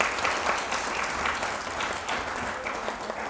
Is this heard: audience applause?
yes